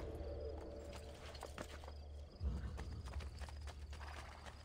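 Horse hooves clip-clop in Assassin's Creed Brotherhood, an irregular run of soft hoof strikes with a brief louder thud midway, set against faint ambient game noise.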